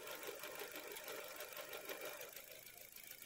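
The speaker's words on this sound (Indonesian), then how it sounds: "Ini hanya suara injektor saja yang terdengar keras." A Mitsubishi Xpander engine idles smoothly while a fast, steady ticking of fuel injectors rises clearly above the low hum, close and continuous.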